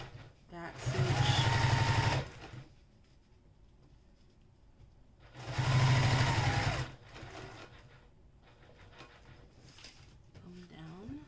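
Sewing machine running two loud close bursts of back stitching, each about two seconds of rapid mechanical whir, separated by quieter handling noise, with a soft voice between.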